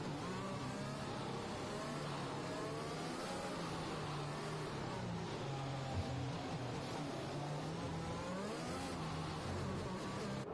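A Mercedes Formula One car in the F1 2021 racing game accelerates away on a safety-car restart at Japan, its high engine whine rising steadily and holding loud and continuous throughout.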